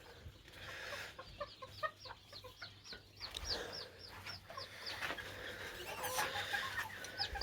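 A broody Serama hen clucks repeatedly in short, rhythmic bursts close by, with other fowl chattering faintly in the background.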